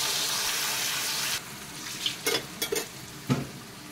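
Stuffed pointed gourds filled with ground lentil paste go into hot oil, a loud continuous frying hiss that drops off, followed by a few sharp close clinks and sizzling bursts as the pieces are moved in the pan.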